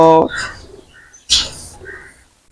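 A pair of imported Pakistani pigeons in a loft give short coos and calls close by, a few brief bursts separated by quieter gaps.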